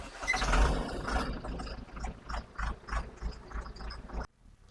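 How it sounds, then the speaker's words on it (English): The diesel engine of a concrete mixer pump cranks and catches with a loud rough burst, then settles into a throbbing, uneven rumble before cutting off abruptly. "wait a few seconds and start the diesel engine"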